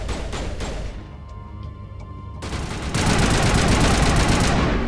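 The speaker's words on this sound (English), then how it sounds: "Who is shooting me?" Bursts of rapid gunfire from Mass Effect Legendary crackle in quick volleys, pause briefly to a quieter lull, then return as sustained, louder automatic fire.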